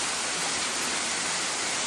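Waterfalls inside a cave in Malaysia, swollen after rain, pour with a loud, dense, unbroken hiss of rushing water, close and steady with no voices.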